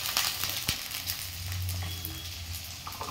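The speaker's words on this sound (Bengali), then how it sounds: "গাজরটাকেও ভালোভাবে এর সাথে একটু ভেজে নিতে হবে।" Carrots and peas sizzling in a pan for egg fried rice, a steady close frying hiss with occasional scrape and stir knocks from a utensil, no voices.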